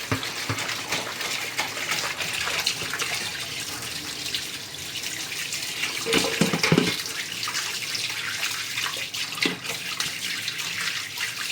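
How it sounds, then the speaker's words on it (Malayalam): Raw chicken washed under a running tap, water gushing and splashing steadily in a sink at close range, with occasional handling splashes and no talking. "ചിക്കൻ ഒന്ന് ക്ലീൻ ചെയ്തെടുക്കട്ടെ"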